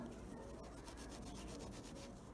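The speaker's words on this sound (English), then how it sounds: "We're just going to lightly use a Scotch-Brite because you don't want to take way too much paint off." A Scotch-Brite pad rubs lightly over painted furniture to distress the finish, making a soft, continuous scratchy scrubbing close by with a quick back-and-forth rhythm.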